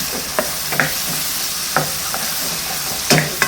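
Brinjal sautéing in oil for kathirikai tokku, a spoon scraping the pan in several irregular strokes over a continuous sizzle, close and fairly loud.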